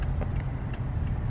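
Low, steady engine rumble from inside a car as it pulls into a stadium, with faint higher rattles over the hum.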